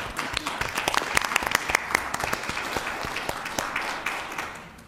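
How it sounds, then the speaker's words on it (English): An audience applauds Bruce at a meeting, with dense, steady clapping from many hands throughout, loud and close, tapering slightly near the end. "Let's give Bruce a round of applause"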